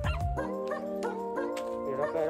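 Golden retriever barks and whines in sustained, tonal yelps and whimpers, close and loud, with a few sharp barks over about two seconds, a person's voice mixed in.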